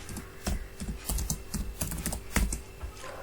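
Fingers tapping out a name on a computer keyboard, a quick irregular run of close, crisp key clicks with short pauses between bursts.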